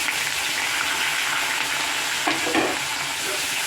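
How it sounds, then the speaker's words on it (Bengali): Onion paste, ginger paste and black cumin frying and being stirred in a hot pan, a steady close broadband sizzle with a brief scraping stir near the end, no voices. "তো মশলাটাকে কষতে দেবো কিছুক্ষণ"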